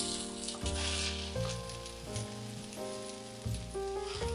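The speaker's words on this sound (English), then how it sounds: "I'm placing my shrimp flat in the pan, making sure that none of them are overlapping." Raw shrimp laid flat in a hot pan sizzle with a soft, continuous crackle beneath prominent background music.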